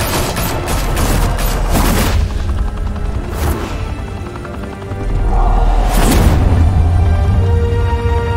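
Gunfire in the Batman Realm of Shadows video game, a loud sustained fusillade of rapid shots with heavy booming impacts, continuous throughout with no talking.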